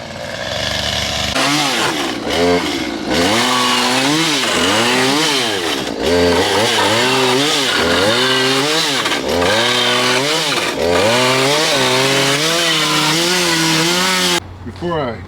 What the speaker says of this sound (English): gonna be cutting it up with a chainsaw